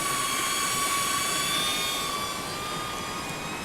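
Camera drone hovering over a canyon river while fly fishing, a steady whining hum with thin high tones that slowly shift pitch, fairly loud and continuous with no talk.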